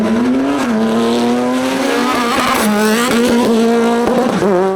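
A Group H race car, a Mark 1 VW Polo or Golf-type machine at the Berg-Cup hillclimb, revs hard nearby with a loud, rising engine note, brief gear-change dips and hints of tyre squeal.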